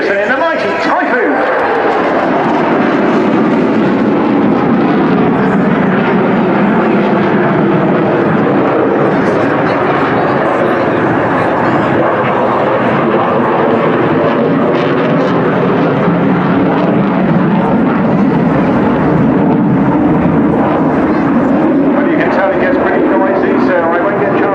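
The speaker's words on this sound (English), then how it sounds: "Flight Lieutenant Jim Peterson in the mighty Typhoon." A Eurofighter Typhoon fighter jet roars past at a seaside airshow in Torbay, a loud, continuous engine rumble that swells and shifts in pitch as it passes, with a voice audible alongside.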